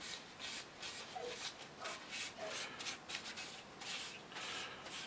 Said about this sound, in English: taking a bit of kitchen towel and going over the surface of your model, just wiping it free of excess